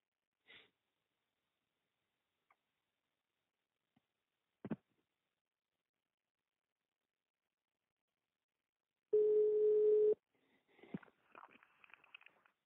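A telephone line tone while waiting for an operator: a single steady one-second tone after several seconds of near silence and a few faint clicks, followed by brief rustling handset noises.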